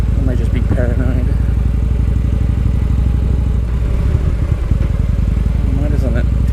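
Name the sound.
motorcycle engine running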